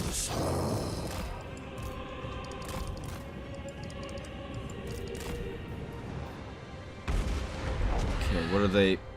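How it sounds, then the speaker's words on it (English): Bombing in the video game Total War: Immortal Empires, Settra campaign, a steady rumbling bombardment with scattered sharper blasts, moderately loud, swelling near the end under some game voices and effects. "What are they bombing?"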